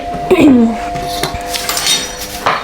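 Dishes and cutlery clink and knock together at close range during a home cleaning session, with a few sharp rings early on, then scattered lighter clatters.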